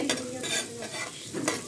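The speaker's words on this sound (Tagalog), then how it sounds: "Ilagay ko na guys ang bawang." Garlic dropped into hot oil in a pan for chicken curry, a bright close sizzle with stirring scrapes, short and steady without talk.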